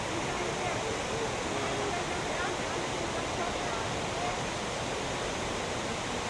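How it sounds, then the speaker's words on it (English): Tindefossen waterfall in a Norwegian fjord setting: a constant, even roar of falling water, moderately distant and unbroken throughout. "this waterfall that you see behind me here is called Tindefossen"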